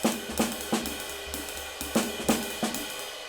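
A drum kit plays a short swung jazz comping phrase, with cymbal wash and bass tones, punctuated by several sharp accented snare hits, with no one talking.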